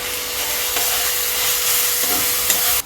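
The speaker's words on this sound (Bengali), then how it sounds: "এবার আমি মশলাটা ভালো করে কষিয়ে নিচ্ছি" Spice paste is sautéed and stirred in a pan, giving a steady, dense sizzle with occasional scraping strokes throughout.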